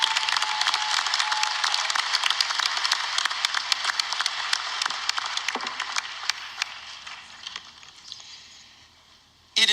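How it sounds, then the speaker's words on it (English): Audience applause at a spring university commencement ceremony, dense crowd clapping that holds steady for several seconds, then gradually thins and fades toward the end. "So I'd like to give a round of applause to you and all your accomplishments."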